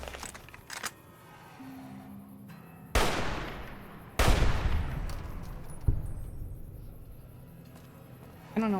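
Gunshots in Fallout: New Vegas (Old World Blues), two sharp, loud reports a second apart with long decaying tails, followed by a softer shot, over quiet game ambience.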